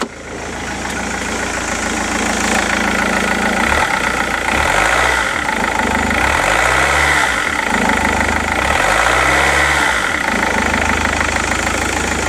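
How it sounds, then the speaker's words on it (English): A Rover 75 CDT diesel engine idles loudly and close up, then is revved three times in a row, each rise and fall clearly audible over the steady idle. "Let's give it a rev, shall we?"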